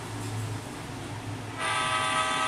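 A train runs past with a continuous rumbling rattle of wheels and cars, then a loud sustained horn cuts in and holds to the end, close and steady.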